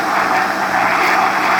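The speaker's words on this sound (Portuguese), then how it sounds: "Tampa o liquidificador" A kitchen blender whirs steadily as it blends sweet potato with water for a homemade potato plastic experiment, a loud continuous motor roar with no pauses.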